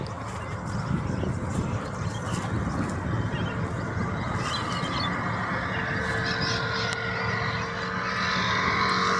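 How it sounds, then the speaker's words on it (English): A light plane takes off from an open gravel area, its engine a steady broadband drone heard from some distance and building slightly toward the end, with wind and outdoor noise around it. "I might watch this plane take off"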